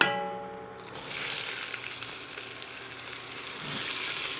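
Vegetables sauté in a Dutch oven on the stovetop after pot roast has been seared, a soft continuous sizzle beginning after a brief clatter, with a quiet stir near the end.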